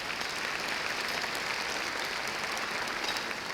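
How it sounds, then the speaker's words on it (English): An audience applauds the organizers of an MLK Day 2020 community event, a steady, dense wash of clapping that holds evenly throughout with no voices over it. "Will you please give them a round of applause?"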